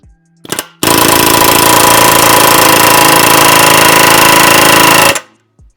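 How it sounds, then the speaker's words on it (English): A loud, continuous pneumatic air hammer rattles rapidly for about four seconds, preceded by a brief burst and ending abruptly, driving a part out of a 2009 Range Rover L322 suspension. "use an air hammer"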